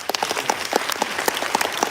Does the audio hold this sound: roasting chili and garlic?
no